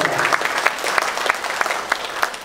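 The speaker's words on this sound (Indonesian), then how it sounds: "Tepuk tangan untuk ibu bapak." Parents and guests at an Indonesian school gathering applaud together, steady crowd clapping with some hands landing in a loose, regular beat, close and fairly loud throughout.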